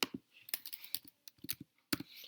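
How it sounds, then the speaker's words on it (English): Keys tapped on a computer keyboard in short irregular bursts of clicks, close and fairly quiet, with brief pauses between the runs and no talking. "I'm going to type this one in."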